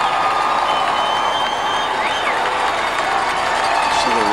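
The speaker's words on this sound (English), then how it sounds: "See the reaction of the enormous McKeesport crowd on the near side." A large McKeesport crowd cheering at a 1994 WPIAL championship high school football game at Three Rivers Stadium, a steady loud roar with a whistle, under continuous commentary.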